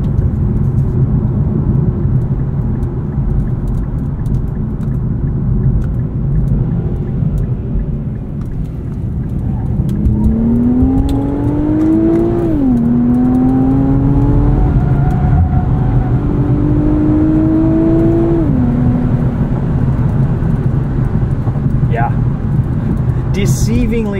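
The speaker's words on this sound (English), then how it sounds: "letting us ride out that torque from that twin-turbo V6" A 2022 Infiniti Q50 Red Sport 400's twin-turbo V6 rumbles steadily, with rising whine sweeps as it accelerates through gears, engine note climbing then dropping at each shift.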